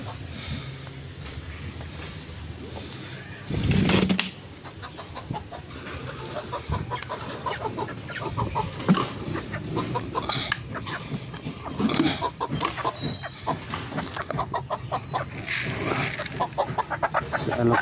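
Backyard chickens cluck and murmur around feeding time, a busy stream of close, repeated clucks with a brief louder burst early on and a voice speaking faintly in places.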